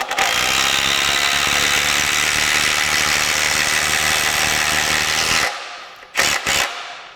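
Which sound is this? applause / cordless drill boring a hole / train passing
cordless drill boring a hole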